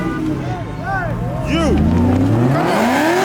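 Loud, close engine roar from a turbo truck rising in pitch as it spins its tires at a night car meet, with people shouting and talking over it.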